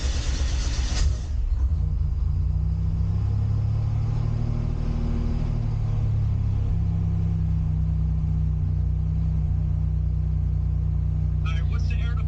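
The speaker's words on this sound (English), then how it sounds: "Let's go ahead and start the car" A Buick Grand National engine turns over with a loud burst, then settles into a steady, deep rumbling idle that holds for the rest of the clip.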